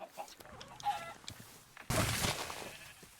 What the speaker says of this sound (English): And killed a chicken in the process.